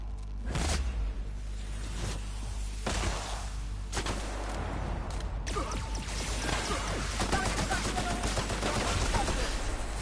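Gunfire in The Outer Worlds video game on PS4, with several heavy shots booming across the opening seconds, then a steady rattle of rapid fire and thuds over a low, constant rumble.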